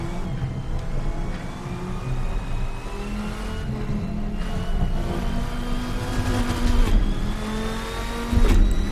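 A Dodge Viper's engine in the Assetto Corsa racing sim revs and surges continuously, its tone rising and falling with gear changes and throttle lifts, loud and close with no talk over it.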